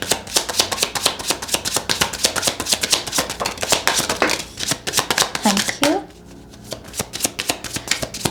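Tarot cards shuffled by hand up close, with a fast, continuous riffling and slapping of the deck for about six seconds before it quiets to a few soft card handling sounds.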